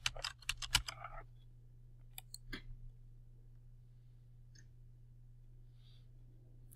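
An email address is typed on a computer keyboard: a quick burst of close key clicks at the start, then a few scattered taps over a quiet room hum.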